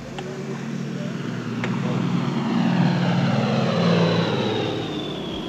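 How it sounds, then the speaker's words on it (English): A U.S. Air Force propeller weather plane flies over the Caribbean, its steady engine drone swelling louder midway and then easing off, with a narrator's voice speaking over it. "U.S. Air Force weather planes scour the unpredictable Caribbean"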